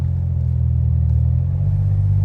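A 2008 Jeep Wrangler Sahara, newly rebuilt, cruises along with a steady, close engine rumble and a deep low drone throughout, briefly swelling toward the end with no voices.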